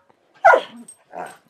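Dogs playing rough at home, giving one loud close bark with a short growling rumble, then a second bark-like burst after a brief pause.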